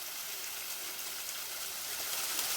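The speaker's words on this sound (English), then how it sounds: "there's like a ton of little ones because you just keep crossing over this creek" Small creek running over rocks along a long-distance hiking trail, a steady broadband rush of flowing water, close and continuous with no talking.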